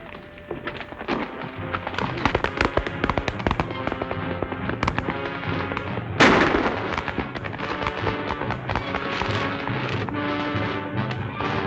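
Gunfire in a western film: a dense, loud barrage of sharp shots with a big blast midway, mixed with horse hooves and action-scene noise.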